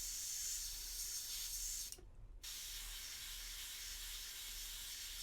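An airbrush sprays paint onto a miniature in a soft, steady hiss with a brief gap partway through, quiet and close, and no voices over it.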